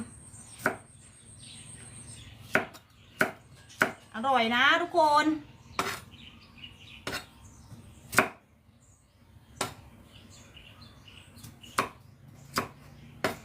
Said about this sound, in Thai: เดี๋ยวเราค่อยมาหั่นใบมะกรูดตาม